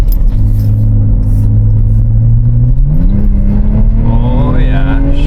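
BMW X3 petrol engine running after a rough idle repair, a loud close rumble that holds steady and then rises as the revs climb partway through.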